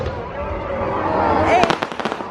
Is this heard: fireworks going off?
yes